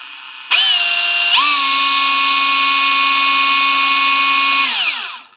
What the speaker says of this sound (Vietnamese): khoan bê tông này, khoan này, mọi người nghe tiếng nhông êm này